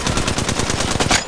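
Rapid automatic gunfire in Apex Legends Mobile, a loud, close burst of about a dozen evenly spaced shots firing in quick rhythm with a brief brighter crack near the end.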